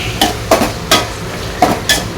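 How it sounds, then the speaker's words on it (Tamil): Chillies, mint, coriander and chopped tomato being fried and stirred in a pan, with a handful of sharp scraping strokes and clinks of the spoon against the pan over a faint sizzle. "இதை நல்லா ஃப்ரை பண்ணிப்போம்."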